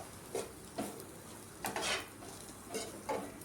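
A spoon mixing coriander powder, amchur powder and salt into flattened rice (avalakki) in a bowl, giving soft scraping strokes at a slow, steady rhythm, close and fairly quiet, with no talking.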